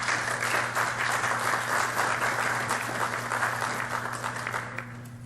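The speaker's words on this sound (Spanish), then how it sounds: "Démosle por favor un fuerte aplauso." Audience at a medical anesthesiology conference gives a steady round of applause, dense and even clapping from a roomful of people that holds strong before tapering slightly at the end.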